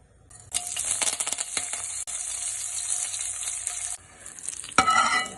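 Radish chutney ground by hand on a grinding stone, giving a gritty, rasping scrape that runs steadily for several seconds before a short break and a louder burst at the end.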